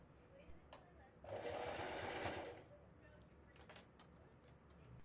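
A sewing machine runs in one short burst of about a second and a half, stitching ruffles along a curved edge of a quilted crossbody tote bag, quiet with faint handling clicks around it.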